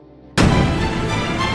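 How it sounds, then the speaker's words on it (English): A sudden loud burst of film gunfire erupts after a brief quiet moment, a sharp boom that rolls into a sustained, dense roar of shots and rumble. "Gunfire erupts, and the situation turns extremely tense."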